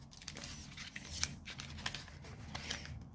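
Paper is folded by hand while making a paper spinning top. Close, crisp creasing and rustling comes in short bursts with sharp crinkles and brief pauses, fairly quiet with no talking.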